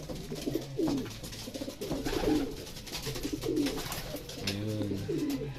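A young racing pigeon coos close by in a repeated rhythmic series of soft, throaty calls, about five phrases over a faint outdoor background at a loft.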